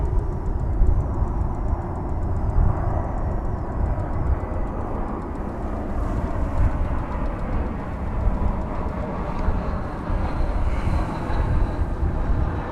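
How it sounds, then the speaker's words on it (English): Airbus A321 airliner arriving on a runway at DFW airport, a continuous broad roar of jet engines with a faint high whine, steady and moderately loud throughout. "is American Flight 1780, an Airbus A321. Our next arrival on Runway DFW."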